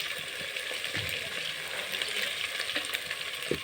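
Green onion frying in a pan, a dense continuous sizzle and crackle close up, with faint stirring taps, loud and steady with no voices.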